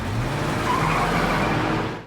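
A car from the crime thriller Parker (2013) speeds off, with a loud, steady engine roar and a faint tire squeal before it cuts out abruptly after about two seconds.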